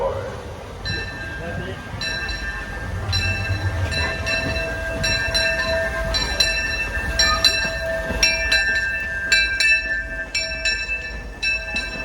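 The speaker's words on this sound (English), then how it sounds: "The Disneyland Limited, now arriving from a trip around Walt Disney's Magic Kingdom" The Disneyland Railroad steam train pulls into a station, with a bell ringing in quick repeated strokes over a busy, rumbling background of rail noise and crowd murmur, close and steady.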